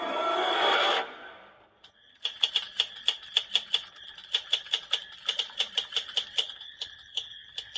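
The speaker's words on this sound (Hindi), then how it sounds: "टाइपराइटर की बटन दबने की आवाज सुनाई दे रही थी।" Keys on a white typewriter in a closed room are struck one after another in a quick, slightly uneven clatter of crisp metallic taps, close and clear after a brief burst of noise fades.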